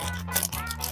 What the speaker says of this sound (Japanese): ハリボーのソフトキースの方ですね、開けていきたいと思います